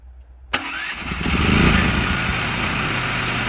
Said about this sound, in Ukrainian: Так, працює генератор.